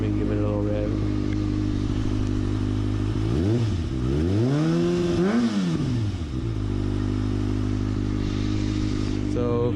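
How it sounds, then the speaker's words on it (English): A Kawasaki ZX-6R sport bike with a louder-than-stock exhaust, already warmed up, revs up from idle in two quick rising and falling throttle blips, near and loud, then settles back to a steady idle. "Let me give it a little rev."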